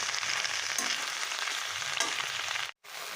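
Garlic, tamarind and salt fry on a low flame for a drumstick-leaf and coriander thuvaiyal, giving a soft continuous hiss with a couple of faint stirring scrapes and a brief dropout near the end. No one speaks.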